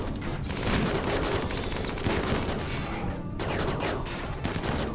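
RimWorld colonists shoot at each other in a dense, continuous volley of overlapping gunfire, loud and chaotic throughout, with crackling shots layered over a heavy rumble.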